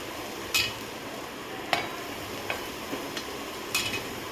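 Fenugreek leaves stirred into a pan of finely chopped onion, chili and garlic frying in a home kitchen, with a soft sizzle under a few sharp spoon scrapes and clinks against the pan at irregular intervals.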